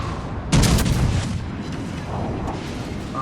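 Scharnhorst battleship gunfire in World of Warships, a sharp heavy boom near the start over constant loud rumbling battle noise, followed by a few softer distant thuds.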